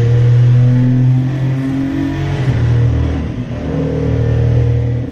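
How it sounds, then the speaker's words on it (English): A turbocharged race car engine revs hard, loud and close, with strong steady engine tones that dip briefly midway and then climb again, alone without talk. "for a turbo, you can hear the turbos, it's loud"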